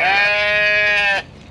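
One sheep gives a loud, close, sustained bleat with a bright harmonic tone lasting just over a second, then cuts off to quiet background.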